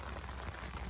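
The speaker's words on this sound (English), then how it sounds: "It is currently pouring out. You can probably hear it on top of the umbrella" Heavy rain pours onto an umbrella overhead, giving a dense, steady, close patter with no break and no talk across the brief moment.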